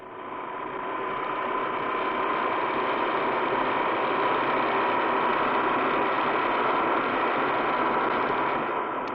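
Car engine droning steadily as it accelerates on a road toward a toll, a loud continuous mid-pitched hum with road noise that holds even for several seconds, no talking.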